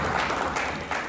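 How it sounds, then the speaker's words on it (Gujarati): Brief burst of crowd applause at a sports tournament opening ceremony, a dense wash of many hands clapping at moderate distance. "અમારા રોનક રાઠોડ એકવાર તાળીઓ થઈ જાય"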